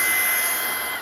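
A RYOBI 18V ONE+ cordless stick vacuum runs on carpet with a steady, continuous broadband whoosh and motor whine, close and fairly loud throughout, with no talk.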